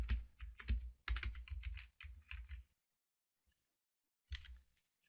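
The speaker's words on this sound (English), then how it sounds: "where it says search plugins, you type in WooCommerce" Keys clatter on a computer keyboard as a plugin name is typed, in rapid bursts of close clicks with short pauses, stopping for about two seconds before one final brief burst.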